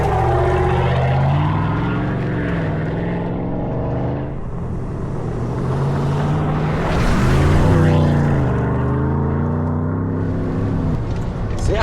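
A Fox Factory Chevrolet Silverado truck with a carbon fiber interior is driven on a quick lap, its engine droning steadily from inside the cab and rising and falling in pitch as it accelerates, loud and continuous.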